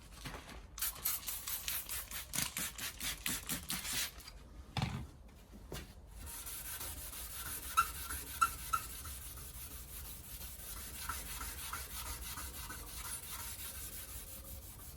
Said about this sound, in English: Sand it down, clean it up real good, and tape it off and spray away.